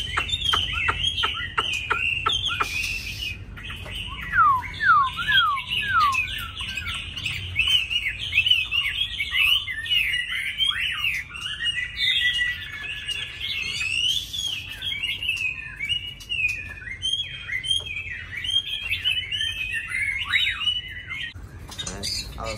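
A caged songbird, such as a magpie robin or bulbul kept at home, sings during song training, a long run of loud, varied chirps, whistles and trills, close by and nearly continuous.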